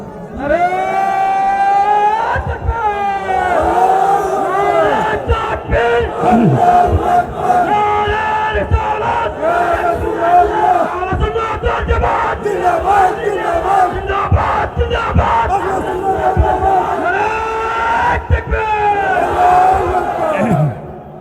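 A large crowd at a Ramadan religious gathering (waz mahfil) in Moulvibazar chants a slogan in loud, rhythmic unison, repeated call-and-response bursts of many voices filling the space continuously.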